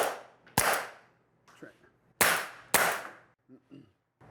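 Pistol shots ring out during a self-defense shooting drill: three sharp, fairly distant reports, the first alone and the last two in quick succession, with brief voices between them.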